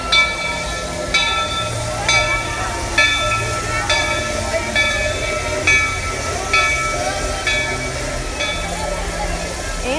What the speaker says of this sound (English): Here is the train coming in.